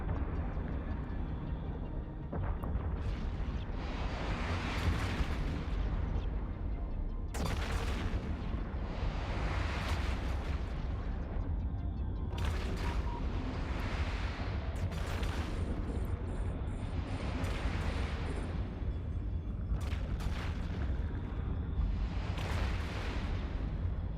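Space-game explosions from EVE Online as buildings are blown up: a run of deep, rumbling booms that swell and fade repeatedly over a constant low drone.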